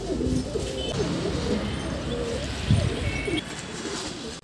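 Pigeons in a loft give low, throaty coos, several overlapping calls rising and falling at moderate volume against constant background hiss.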